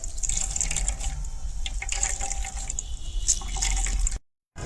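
Beetroot juice trickles and drips through cotton cloth in a quiet, close, continuous patter of liquid that cuts off abruptly near the end.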